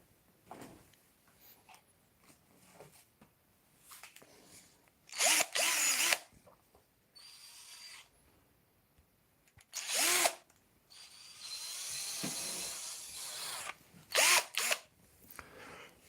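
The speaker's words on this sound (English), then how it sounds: "I need to drill these things in." A handheld power drill runs in several separate bursts while a hole is drilled into a house wall to hang framed pictures, with short whirs and one longer run between quiet pauses.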